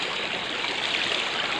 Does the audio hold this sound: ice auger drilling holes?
no